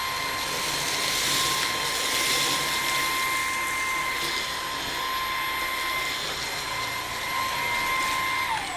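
A Bissell CleanView XR Pet upright vacuum cleaner runs on max mode, a steady high-pitched motor whine with a broad rushing airflow hiss, constant and fairly close with no talking.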